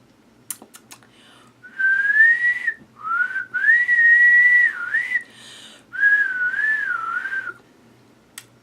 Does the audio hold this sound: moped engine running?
no